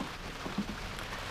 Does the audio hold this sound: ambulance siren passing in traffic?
no